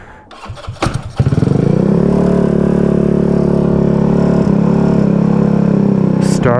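A Honda Ruckus scooter engine cranks and fires up, then settles into a steady, loud, close idle that runs continuously to the end.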